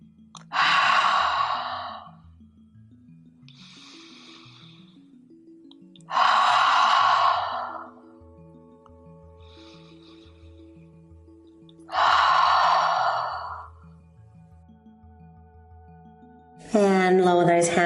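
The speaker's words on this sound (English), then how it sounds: "Let's take 3 exhalations through the mouth and har out the breath." Three deep, forceful exhalations through the mouth in a yoga session, each a loud breathy sigh lasting about two seconds, evenly spaced several seconds apart over soft background music, then a brief voice at the end.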